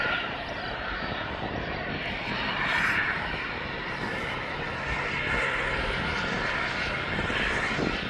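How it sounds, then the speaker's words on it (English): An Embraer Phenom 300 business jet taxis and turns at an airport, a steady moderately distant whining turbine roar that swells slightly and holds. "this little Embraer Phantom 300 is making his way down to London"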